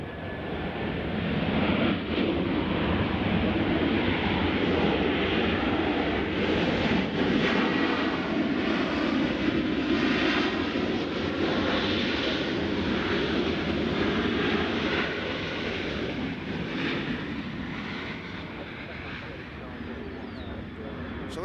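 An airliner flying a go-around at Nashville International Airport, arriving from DFW, heard as a loud, sustained jet engine roar that fills the whole stretch and fades slightly toward the end, with a voice talking over it.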